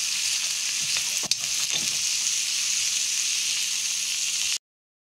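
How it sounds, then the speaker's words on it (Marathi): Onion and tomato frying in a pan, a steady bright sizzle running continuously close up, with a couple of brief stirring clatters early on, then cutting off abruptly. "म्हणून मी फक्त टमाटा आणि कांदा घालून फ्राय करणार आहे."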